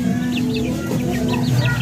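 Several Shamo chickens cluck in a rapid run of short, close calls over a steady low background hum.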